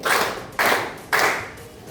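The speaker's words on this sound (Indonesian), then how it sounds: "Clap 1 berarti tepuk tangan 1 kali baru 2" Three sharp group claps ring out in a classroom clapping game during a maths lesson, evenly spaced about half a second apart, each a crisp burst from many hands that decays quickly into the room.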